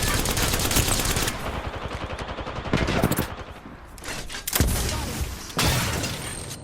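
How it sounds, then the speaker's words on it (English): Rapid bursts of minigun fire from Apex Legends gameplay, loud and close, coming in several sustained stretches with short gaps between them. "They got a rampart with a minigun."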